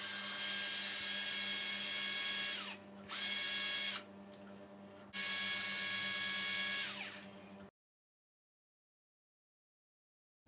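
Power drill working on the rear bumper screws of a Traxxas Slash 4x4 RC truck with an RPM bumper: a loud high whirring in three long bursts separated by brief pauses, the pitch sagging as each run ends, then silence.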